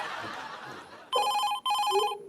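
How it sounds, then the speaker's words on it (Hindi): An old-style telephone bell rings in two loud, bright bursts separated by a short gap, right after a stretch of muffled chatter and light laughter. "फोन आ रहा है उनका बार बार।"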